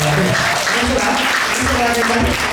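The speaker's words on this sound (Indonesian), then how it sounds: "Boleh kita berikan tepuk tangan" A congregation at a young adults' Christmas worship service applauds, dense continuous clapping mixed with voices and a low musical hum throughout.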